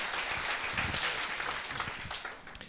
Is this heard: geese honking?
no